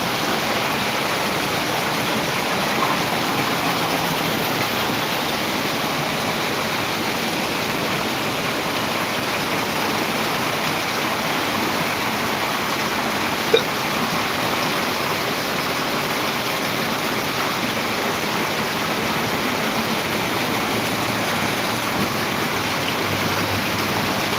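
A constant, dense rush of rainwater flows through a street like a river after heavy rain, unbroken and fairly loud, like a torrent pouring past.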